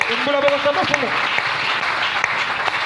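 A church congregation breaks into steady, loud applause and cheering throughout, with a voice speaking briefly over the clapping at the start.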